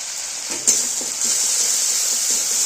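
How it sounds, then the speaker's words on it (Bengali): Spices frying in oil in a pan, with chilli powder, turmeric, cumin and coriander powder and salt in the oil: a steady, close sizzle and hiss throughout, with a brief louder crackle near the start. "মশলাটা একটু ভাজা করে নিলাম।"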